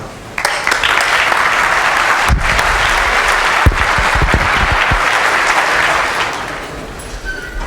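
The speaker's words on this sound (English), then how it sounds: "Have a big warm applause for Mr. Turnbull." Conference audience applauding a speaker at FOSDEM 2014, a sustained dense burst of clapping from a large crowd, loud and steady before tapering off near the end, with a few close thumps.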